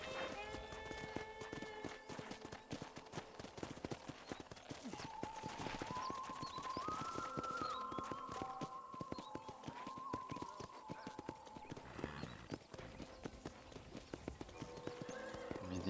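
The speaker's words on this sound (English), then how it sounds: "let's see if you can still ride a horse" Hooves clip-clop steadily as a horse is ridden at a ranch in the game Red Dead Redemption, a brisk continuous rhythm with occasional neighing, under game voices and music.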